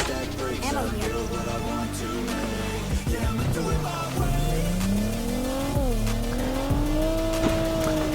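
Video game car driving hard, with a loud continuous engine whine that rises and falls as it revs, plus tire squeals and skids, close and alone.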